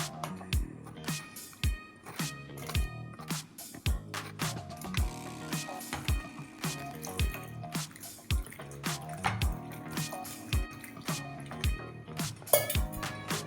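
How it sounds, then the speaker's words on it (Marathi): Cut ridge gourd pieces are washed with water, giving rhythmic wet sloshes and drips that repeat about once per second up close, with no talking. "पूर्ण सगळे गोसावळे कट करून झाल्यानंतर मी त्याला स्वच्छ धुवून घेणार आहे."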